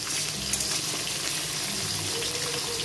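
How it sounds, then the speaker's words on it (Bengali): Bottle gourd peel frying in a pan, a steady close sizzle with light crackle running unbroken and fairly loud throughout, with no talk. "এদিকে দেখো লাউ খোসাটা আস্তে আস্তে ভাজা হচ্ছে আমার"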